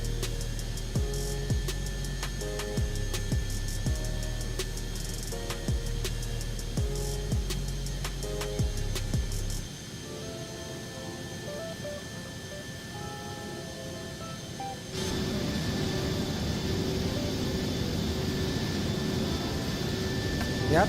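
Steady engine hum and airflow fill the cabin of a VSkyLabs 510X very light jet in X-Plane 12, a constant broadband drone with a few clicks early on and a marked shift in tone partway through.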